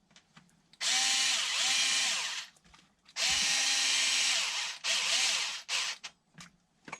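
Power drill driving screws into the bottom of a HoBao MTX RC car chassis, loud whirring bursts in two long runs and several short pulses, close up with no talk.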